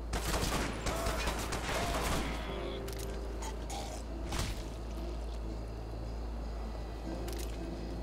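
Gunfire rings out in a crowded market scene in the video game Hatred. A dense burst of shots opens the clip, then sharp single shots crack out here and there over a steady background rumble.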